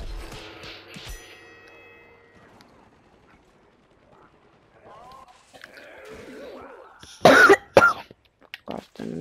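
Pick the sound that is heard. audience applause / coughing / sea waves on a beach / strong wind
coughing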